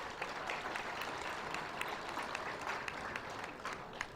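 A crowd gives a round of applause for a heifer exhibitor at a county fair junior dairy show. The clapping is quiet and somewhat distant, with a steady patter of many hands throughout.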